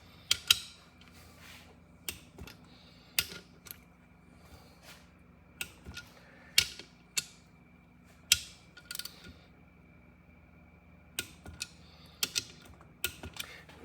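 A torque wrench tightens main bearing bolts on an engine rebuild of a 1992 Subaru Sambar, producing scattered sharp metallic ratchet clicks in short irregular bursts, close and fairly quiet, against a hushed background.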